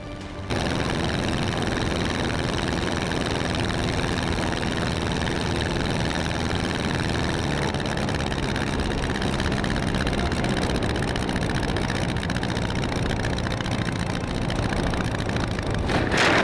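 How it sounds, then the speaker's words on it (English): Steady, loud drone of a small propeller plane's engine running continuously in flight, shortly before a crash, unbroken throughout with no voices. "he never expected it to capture a terrifying real-life plane crash"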